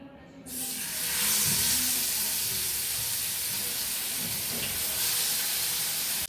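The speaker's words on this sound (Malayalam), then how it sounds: "മീനും കൂടെ വറുത്തെടുക്കാൻ വേണ്ടി പോകുന്നു." Fish frying in a hot pan on a home stove, a loud steady sizzle and hiss that flares up after a short quiet start and keeps going without pause, with no talk over it.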